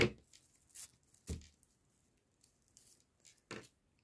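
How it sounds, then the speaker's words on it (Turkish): Scissors snip thread while a bag is being sewn, a few short, crisp cuts spaced irregularly and heard close in an otherwise quiet room. "İpimi birazcık uzun kesiyorum."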